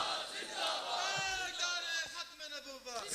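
A crowd at a religious gathering with a Maulana shouting a devotional slogan together, a loud surging chorus of raised voices that swells and wavers before breaking up.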